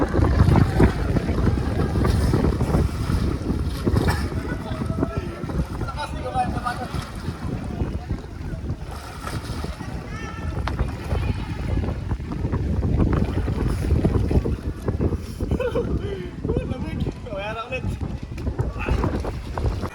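Strong river current rushing at Minalungao in Nueva Ecija, a continuous loud churning wash buffeted by wind, with people talking over it throughout.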